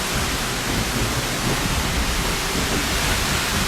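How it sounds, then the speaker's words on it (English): An Icelandic waterfall heard from behind the falling water, a loud, constant roaring hiss that fills the space evenly, with no voices over it. "So I'm coming behind the waterfall."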